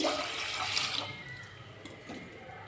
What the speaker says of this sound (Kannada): ಆ ಗ್ಲಾಸಿಂದ 2 ಗ್ಲಾಸ್ನ ನೀರು ಹಾಕ್ತಾಯಿದ್ದೀನಿ